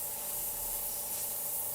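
Airbrush or spray paint hissing steadily onto a werewolf and vampire model, a soft continuous spray close by with no pauses and no talking.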